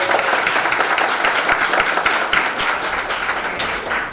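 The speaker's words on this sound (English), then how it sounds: "Please give a huge round of applause for Adam for agreeing to do that." A conference audience gives a loud, continuous round of applause, dense clapping that holds steady throughout and fades only slightly at the end.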